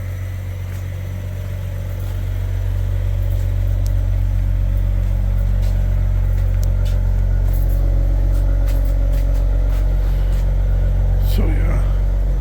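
A Maserati engine idles after a cold start, a deep steady low rumble close by that swells slightly early on and then holds even, with someone talking over it.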